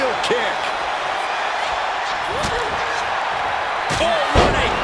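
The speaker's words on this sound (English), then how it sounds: "Spinning heel kick." A spinning heel kick lands in the WWE 2K25 wrestling game as a sharp slamming impact, with more thuds over steady crowd noise and commentary.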